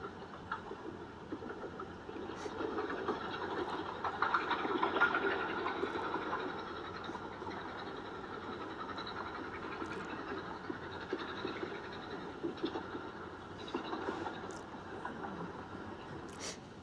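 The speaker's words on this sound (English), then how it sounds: "the train winds its way up through the mountains, closely following the old hill cart road" A Darjeeling mountain train climbs through the hills along the old hill cart road, giving off a steady rumbling, rattling run of rail noise that holds fairly constant throughout with faint clicks.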